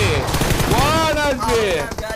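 Rapid bursts of video game gunfire crackle loudly and close, mixed with whooshing effects.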